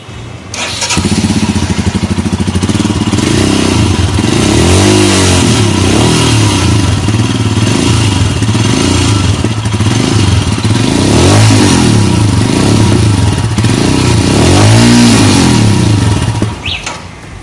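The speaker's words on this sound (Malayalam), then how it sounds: "നമുക്കിനി ഈ വാഹനത്തെ എക്സോസ്റ്റ് എങ്ങനെയുണ്ട് നോക്കാം" A 2021 Royal Enfield Himalayan motorcycle runs loud and close at the exhaust, its single-cylinder engine idling with a steady thump and being revved up several times over about sixteen seconds.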